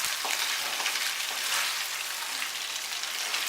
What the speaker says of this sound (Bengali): খুব হালকা করে ভাজবো চিংড়ি মাছটা